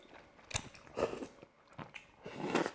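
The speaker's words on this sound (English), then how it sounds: "So in Korean culture, it is absolutely okay to slurp when you're eating noodles" Eating Korean glass noodles (dangmyeon) in beef short rib soup: a few close, wet bursts of slurping and chewing come in uneven pulses, with quiet gaps between them.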